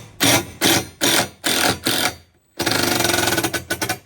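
Power driver sinking screws into the coping of a skate ramp, close and loud: five short whirring bursts, a brief pause, then a longer run with pulsing bursts near the end.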